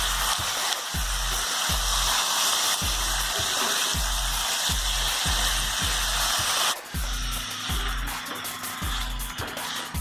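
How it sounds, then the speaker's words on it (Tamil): Pepper chicken sautéing in a pan, giving a loud, continuous broad sizzling hiss that shifts partway through, with a regular low thumping rhythm running underneath. "நல்லா வதக்கிடுங்க ஒரு தரம்."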